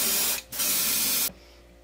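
Thinned Minwax polyacrylic finish is sprayed onto a handmade coconut fishing lure in two close bursts, a short hiss then a longer one, loud and near, with no talk.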